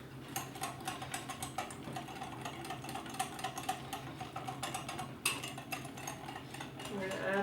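A whisk scrapes and clicks rapidly against a pan of chocolate cake milk mixture on the heat, a continuous close metallic rattle that keeps going with only slight changes in pace.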